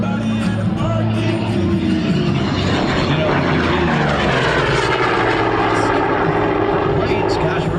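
A propeller-driven OV-10 warplane flies over an air show at Miramar, its loud, steady engine drone and airscrew buzz filling the whole stretch, with a slow Doppler shift as it passes and faint crowd voices beneath.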